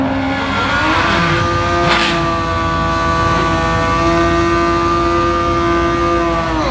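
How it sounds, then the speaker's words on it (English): A nitrous-fed Pro Mod drag motorcycle roars at full throttle on a drag strip, a loud, sustained high-pitched engine wail whose tone rises briefly and then holds steady at high revs. "The sweet sound of a NITROUS Pro Mod."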